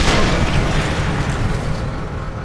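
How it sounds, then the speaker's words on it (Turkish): An Opel car explodes in the Sniper Elite 3 video game, a loud, close, roaring blast that fills the whole moment and slowly fades. "Şu Opel'i de patlatalım anasını satayım."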